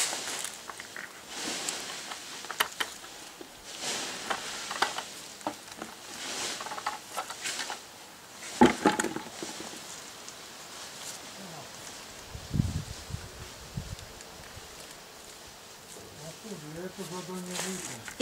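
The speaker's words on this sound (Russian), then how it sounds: "Вот так засыпаем торфом." Peat is poured over a large-leaf hydrangea to cover it for winter, giving a few soft rustling, pattering bursts among scraping sounds while someone talks throughout.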